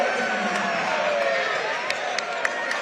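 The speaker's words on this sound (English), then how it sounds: "He brought the crowd to their feet. You know, they're booing, they're upset." Gym crowd at a RIP City versus LCA basketball game booing a goaltend call, a dense, loud roar of voices sustained throughout with a few sharp shouts and claps breaking through, and a commentator talking over it.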